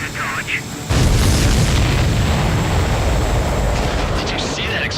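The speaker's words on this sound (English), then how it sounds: "Did you see that explosion?" A sudden loud explosion bursts in about a second in and roars on as a sustained rumble in the video game Ace Combat 7, with a faint voice heard before the blast.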